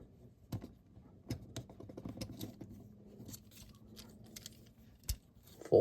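Plastic Transformers Studio Series 86 Bumblebee toy being handled as its arms fold back, a run of faint, close clicks and light taps spaced irregularly against a quiet room.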